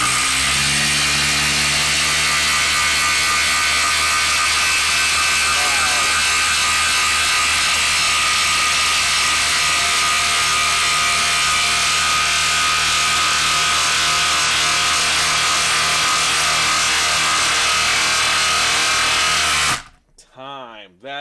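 A cordless impact driver drives a 10-inch screw into wood with a long, loud, continuous whirring hammer that holds for about twenty seconds, then cuts off abruptly.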